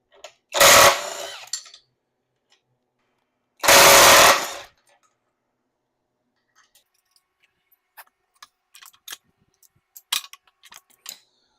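Removing the wheels from a hydraulic floor jack: two loud bursts of power tool whirring on a socket, followed by scattered clicks, taps and handling of metal parts, no talking.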